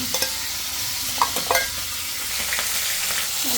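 Sliced onion and bay leaves fry in oil in a pan with a constant bright sizzle, broken by a few spatula stirs and scrapes that stand out briefly above the hiss.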